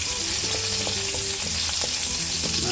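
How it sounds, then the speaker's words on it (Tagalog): Garlic sautés in hot oil in a pan as the base for a quick pork dish, making a loud, continuous sizzle with a few light stirring clicks and no talking. "Gisa muna natin ang ating bawang."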